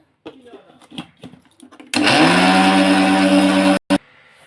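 A mixer grinder grinds a heavy load of soybeans, a loud steady motor whir with a droning tone running for about two seconds after quieter clattering and handling sounds, then stopping abruptly with a brief final pulse.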